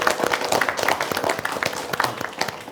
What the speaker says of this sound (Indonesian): Boleh tepuk tangannya Bapak Ibu?